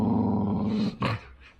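A pit bull growls low and steadily while wrestling, then gives a short sharp yip or snarl, with a couple of brief rough sounds after it. No one talks.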